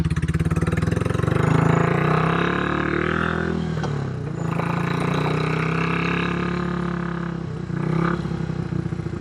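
A custom Royal Enfield California Goan 411 motorcycle engine rumbles loud and close with a deep, bassy, steady throb that dips briefly and then picks back up, and no voices are audible.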